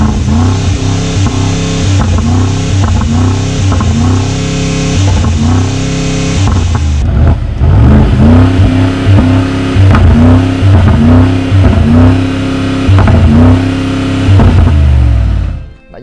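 Mercedes-AMG G63 engine revving hard through an aftermarket Akrapovic exhaust, a series of loud, close rising blips in a rapid rhythm, then longer sustained revs before cutting off.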